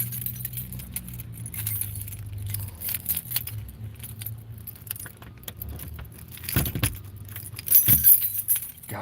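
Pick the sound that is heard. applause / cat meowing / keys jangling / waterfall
keys jangling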